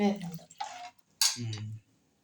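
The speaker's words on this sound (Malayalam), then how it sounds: "ഉപ്പും കായവും കൂടെ ഒക്കെ നല്ലപോലെ ഇളക്കി കൊടുക്കുക" A metal spoon clinks and scrapes inside a pot of rasam, stirring in salt and asafoetida in a few quick, quiet strokes.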